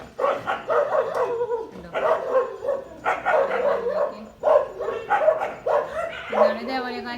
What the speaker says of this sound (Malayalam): അപ്പുറത്തെ നായ വന്നിട്ടുണ്ടോ?